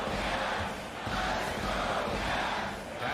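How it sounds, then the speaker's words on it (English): A steady, loud crowd roar fills an NBA 2K23 basketball game arena, holding a dense wash of noise with slight swells throughout. "And the crowd is locked in."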